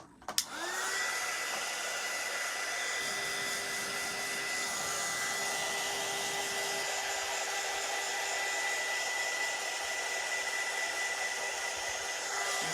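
A hair dryer runs continuously to dry alcohol ink on a tumbler, starting with a brief click and then a steady whirring blower hum with a faint whine, close and unbroken.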